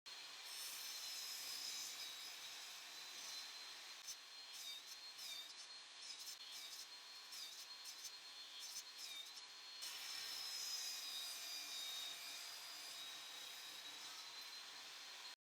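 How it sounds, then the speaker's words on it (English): A bench saw cuts a piece of scrap wood with a steady, rasping whine, two sustained passes close by with a brief shift midway, and no talking. "On the bench saw, I'll remove this part."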